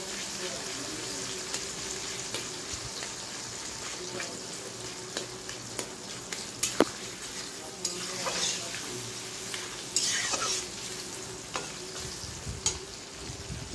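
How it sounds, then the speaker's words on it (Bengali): Four or five chopped onions frying in a pan for chicken curry, a continuous close sizzle punctuated by scattered clicks and scrapes of stirring. "চার পাঁচটা পেঁয়াজ কুচি করে রেখেছিলাম, সেটাকে দিয়ে দিলাম। তারপর এটাকে লাল লাল করে একটু ভেজে নিতে হবে।"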